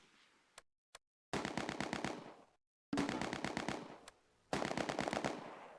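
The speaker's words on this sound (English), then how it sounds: "The Bren sections on the right flank target the enemy in von Hunt's house." Bren light machine gun fire in the Close Combat war game: two brief isolated shots, then three long rapid bursts of automatic fire, loud and close, each several seconds long with short pauses between.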